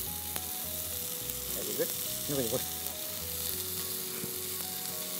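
Ginger frying in a pan for a spicy Tamil-style chicken curry, a steady close sizzle running throughout with a few stirring scrapes, while a voice briefly speaks over it.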